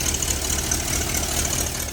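A Dodge D100 truck engine with a carburetor, a badly leaking exhaust and gasket problems runs at a steady, rough idle, loud and close, with no voices.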